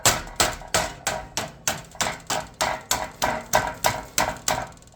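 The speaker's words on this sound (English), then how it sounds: "you're going to hit it with your mallet and knock it down 90 degrees" A mallet strikes a sheet metal seam to fold it down for HVAC ductwork, giving about fourteen sharp, evenly spaced blows at a steady quick rhythm, loud and close with no speech.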